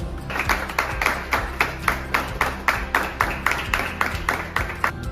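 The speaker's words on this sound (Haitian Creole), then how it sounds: "On nous applaudit au chaud" A church audience claps in a steady rhythmic beat, the close, even claps carrying over a low musical backing throughout.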